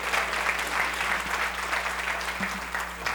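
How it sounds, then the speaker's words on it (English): Guests at a Rotary club meeting receive a round of applause, a steady, full wash of clapping from the room that holds evenly throughout, with a constant low hum beneath. "please give them all a round of applause"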